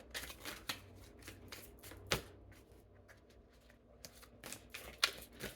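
Tarot cards are shuffled and drawn, quick soft riffling and flicking bursts with a few sharper card snaps, close and quiet.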